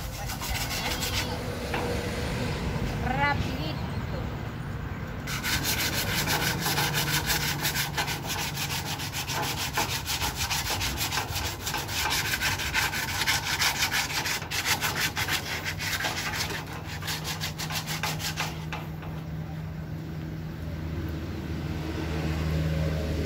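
Hand sanding of wood, a steady abrasive rubbing with repeated back-and-forth strokes that runs continuously and close, its intensity shifting as the pressure changes, with a faint background hum.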